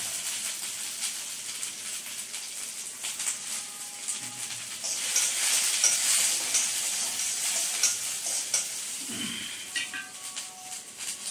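Onions sizzling and frying in hot oil with mustard seeds, a steady crackling hiss that grows louder midway, with faint stirring and clinks.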